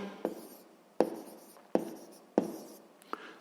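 A pen or pencil writing out a sixth-grade math solution, with four distinct scratchy strokes at a steady pace, close and clear and with no talking.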